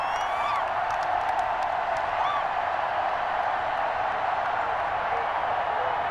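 A broad, steady roar of stadium crowd applause and cheering in the video game Madden 21 continues throughout at an even level, with occasional whistles and whoops rising above it.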